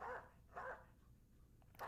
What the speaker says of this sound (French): Je suis au bord de la crise de nerfs quand j'entends ces aboiements.